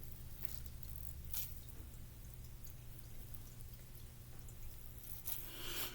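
Hands squish and knead a wet seed bomb mixture made without clay, producing soft repeated squelches and a few sharper wet smacks over a quiet background.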